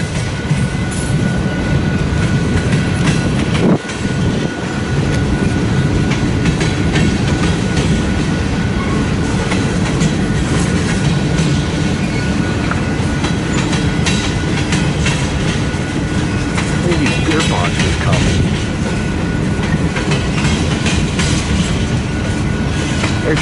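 A freight train passes on the rails in Fremont, Nebraska, with a steady, loud rolling rumble and continuous clickety-clack of wheels over track joints that holds throughout.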